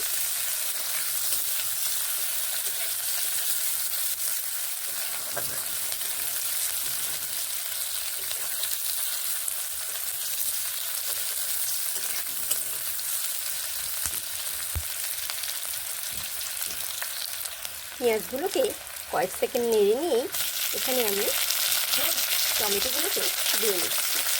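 Beans with onion sizzle steadily in a frying pan for a long stretch, with scraping stirring strokes growing more noticeable toward the end.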